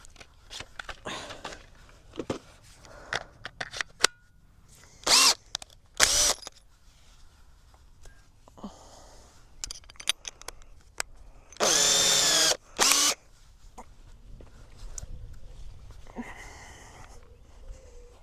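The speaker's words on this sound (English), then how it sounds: "So this is the drill bit I'm using." Several short bursts of a power drill with a flat bit whirring as it bores holes, separated by quieter handling noises and clicks, with one longer run near the end.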